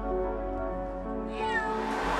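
A single long, drawn-out meow from a rescued cat in an area abandoned after a nuclear accident. It is close and fairly loud, rising in pitch toward the end, with no speech.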